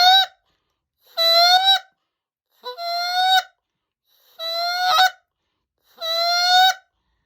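Five separate honks blown on a handheld goose call come at a steady pace, each rising slightly in pitch, loud and close with silence between.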